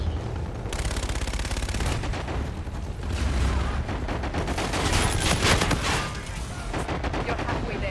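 Sustained automatic gunfire in Call of Duty Infinite Warfare, with rapid bursts and booming impacts over a game soundtrack, while voices speak underneath.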